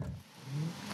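A Hyundai IONIQ 5 N electric car accelerates with a simulated combustion engine sound, giving a short, moderately loud revving drone with a low rising tone.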